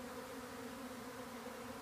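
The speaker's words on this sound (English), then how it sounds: "His bee swarm continued." A honeybee swarm buzzes around an overfull hive, a soft continuous hum of many wings, faint and steady without interruption.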